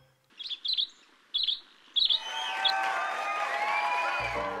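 A bird gives a few short, bright whistled calls, then a longer run of overlapping whistles and warbles, clear and fairly close.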